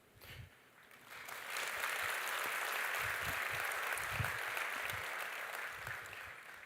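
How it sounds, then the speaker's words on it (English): An audience at a university graduation ceremony gives sustained applause for a wind and percussion ensemble as the musicians leave the stage, a steady wash of clapping that swells quickly and holds with no voices over it. "Let's give them another round of applause while they make their way off the stage."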